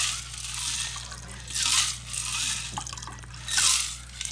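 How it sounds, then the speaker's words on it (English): French 75 cocktail poured into glasses, champagne splashing and fizzing in soft bursts over a low steady hum, quiet and close, with no voices. "now we're going to pour these"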